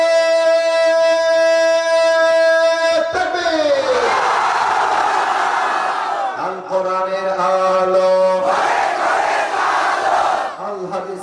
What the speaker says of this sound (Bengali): সমস্ত শক্তিকে উজাড় করে তাকবীর দিবেন